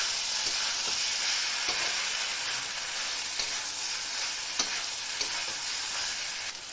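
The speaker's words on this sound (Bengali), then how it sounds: "সবজিটা এবারে আমি ভালো করে কষিয়ে নেবো এভাবে উল্টিয়ে পাল্টিয়ে।" Paneer pakoda vegetables sauté and sizzle in a pan, a constant bright frying hiss broken by soft, regular scrapes and knocks as they are turned and stirred.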